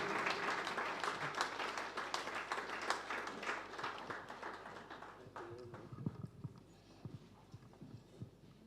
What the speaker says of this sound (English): Please let's give him a round of applause as he makes his way to the stage.